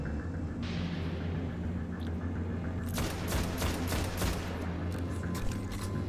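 Grenade explosions in the video game Destiny: a low rumbling burst followed by a cluster of sharp crackling blasts midway, faint against a steady game backdrop, without speech.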